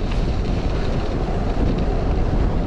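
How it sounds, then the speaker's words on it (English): Strong headwind gusting steadily across a cyclist's microphone on an open dirt road, a loud continuous low rumble with buffeting throughout and no voices. "Pretty strong headwind now."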